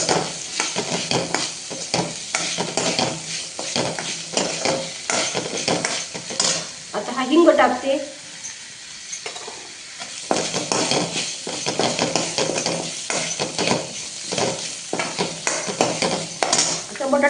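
Green peas roast in a pan for a home-style potato and pea bhaji, with sizzling and repeated scraping stirs of a spatula against metal, close up, pausing briefly midway before resuming.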